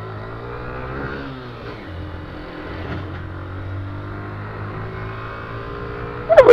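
A Honda Fan 125i motorcycle engine hums and revs close by, a steady buzzy drone that rises and falls, ending in a short, loud burst at the end.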